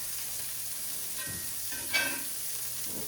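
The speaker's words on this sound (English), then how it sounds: "as you kind of keep turning the meatball around to brown them" Swedish meatballs fry and brown in a pan, a soft continuous sizzle with a couple of brief clinks and scrapes as they are turned, no voices.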